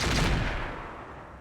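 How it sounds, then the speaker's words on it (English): Artillery barrage in a BattleTech-style mech strategy game, heard as a burst of deep rumbling explosions that hit loud at the start and then roll off into a fading low-end boom, with no one talking. "A barrage over here as well."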